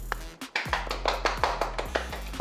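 A short burst of hand clapping, several sharp claps in a quick, slightly uneven rhythm, close and fairly loud.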